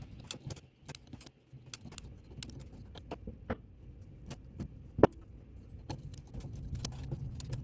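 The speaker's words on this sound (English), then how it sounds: "So I'm going to wind up the springs a little bit and get those cut off." Winding the springs of a 1904 Gilbert antique mantel clock: repeated sharp metallic clicks and ratcheting ticks at an uneven pace, with one louder snap midway, close and quiet against a low background.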